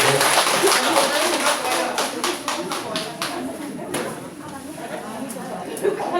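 An audience claps in a burst of applause for the county head at a welfare event for elderly people, crisp claps fading over several seconds while voices chatter underneath.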